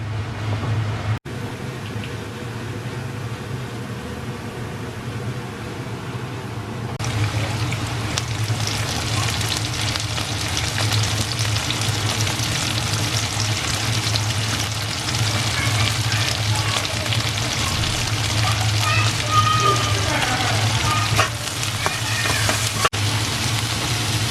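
Fish frying in a pan of hot oil, a continuous dense sizzle and crackle that grows louder partway through and keeps going steadily.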